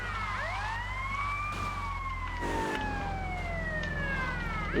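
Police car sirens wail in the video game GTA Vice City, several overlapping rising and falling tones over a steady engine hum, loud and continuous, with no talking.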